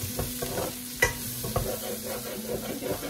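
A spoon scraping the bottom of a pan of callos with chorizo de Bilbao and bacon, quick repeated scrapes over a steady close sizzle, with no voices.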